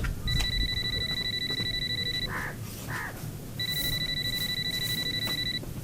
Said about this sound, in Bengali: ওই যে ফোন বাজতেছে, ফোনটা নিয়ে এসে দে